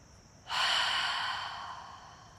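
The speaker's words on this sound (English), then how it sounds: "Two more big breaths, sigh it out." A deep, audible exhale during a power yoga session in downward dog, one long breathy sigh that starts abruptly and fades slowly, close and alone over quiet room tone.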